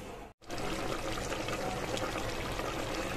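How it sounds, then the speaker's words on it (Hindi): A glass of water poured into a cooking pot for vegetable pulao gives a steady, close splashing rush that starts after a brief pause and runs on unbroken. "अब मैं इसमें ऐड करूंगी 1 ग्लास पानी।"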